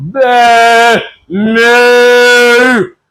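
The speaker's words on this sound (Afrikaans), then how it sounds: "hier hoor hy 'n bulk" A cow moos twice, loud and close, each call a long, strongly tonal low bellow, the second longer, heard as a sound effect within a spoken story.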